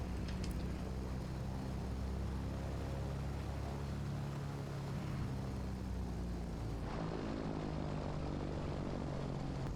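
Simulated PA28 single-engine propeller aircraft in Microsoft Flight Simulator 2024, flying from the Faroe Islands to Reykjavik: a steady, loud engine drone with a constant low hum throughout, shifting slightly in tone partway through.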